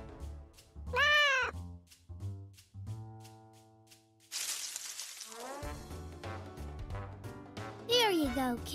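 A cartoon cat in a Daniel Tiger's Neighborhood episode lets out a clear rising-falling meow, then another near the end. Child-like cartoon voices talk and light music plays in between.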